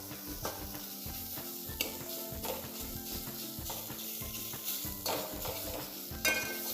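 Cardamom and dry fruits are stirred into lauki kheer in a hot pan with roasted nuts: continuous sizzling frying with repeated scraping stirring strokes, close and steady, with no talking.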